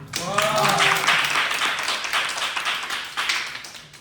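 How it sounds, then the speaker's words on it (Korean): A church youth congregation claps at a Sunday worship service, a fairly loud burst of hands that fades and swells over several seconds, with voices audible over it early on. "박수."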